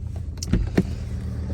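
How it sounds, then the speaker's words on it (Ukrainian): A BMW 530 with a 3-litre engine and 334,000 km on it idles smoothly, giving a low, even rumble close by. A couple of brief clicks cut through it. No one speaks. "як приємно працює 3-літровий двигун від BMW"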